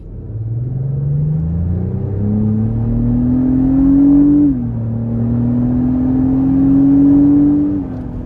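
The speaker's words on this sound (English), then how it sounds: "Very sporty sound there coming from the engine, the exhaust, and all of that." A 2025 Lexus GX 550 engine and exhaust accelerating hard in sport mode, a steady rising growl that climbs through the gears with a brief dip at a shift, loud and close from inside the cabin with no talking.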